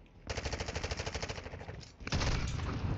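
Gunfire in Call of Duty Modern Warfare 2: a long, steady automatic burst of rapid, evenly pulsing shots, then a heavier, denser wash of fire, fairly close and with no talk over it.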